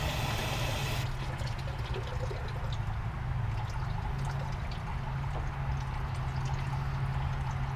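Water flushing out of the lower radiator hose of a Ford Ranger during a radiator flush: a steady, close, continuous rushing splash that holds constant throughout, with no talking.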